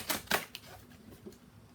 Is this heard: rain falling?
no